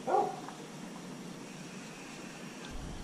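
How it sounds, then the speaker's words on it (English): A single brief dog bark near the start, somewhat distant, followed by quiet room background. "my dog's barking"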